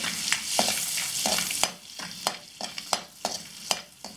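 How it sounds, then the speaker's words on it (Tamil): A piece of cinnamon bark and a few cloves frying in butter for paneer butter masala, steady sizzling broken by repeated sharp scrapes and taps of a spoon stirring the pan. "அதல வந்து ஒரு துண்டு பட்டையும் கொஞ்சம் கிராம்பும் போட்டு ஒரு 2 நிமிஷம் ஃப்ரை பண்ணிடுங்க"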